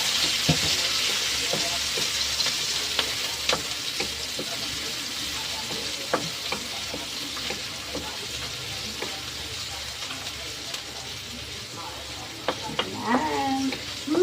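Chopped onion and garlic sizzle and fry in a pan for a ground pork dish with sayote and bok choy, a steady close hiss broken by scattered stirring clinks and scrapes of a utensil, with a brief voice near the end.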